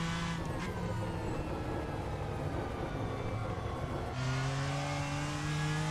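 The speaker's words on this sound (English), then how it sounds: "The off-throttle rumble and backfire sounds amazing in this car." BMW M4 GT3 race car in the Assetto Corsa racing game at Red Bull Ring, a steady engine drone that drops off-throttle into a low rumble, then climbs again as power returns, loud and continuous without speech.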